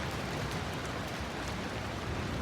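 Steady rain pours down on a mountain road through Kashmir toward Neelum Valley above a river, a dense, even hiss with no breaks and no voices.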